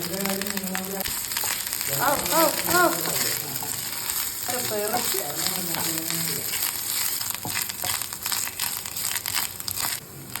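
Curry leaves, chopped onion and grated coconut fry in a steady, crackling sizzle that stays loud throughout, and faint singing voices play in the background.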